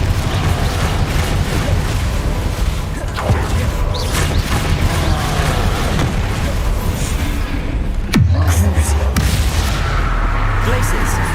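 Confringo fire spell blasts in Hogwarts Legacy, loud booming bursts over continuous combat noise with one sharp blast near the end, while a voice shouts spell names.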